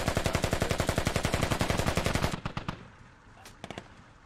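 An AK rifle in a video game fires a rapid, loud automatic burst of evenly spaced shots for about two seconds. A few scattered distant shots follow over a quieter tail.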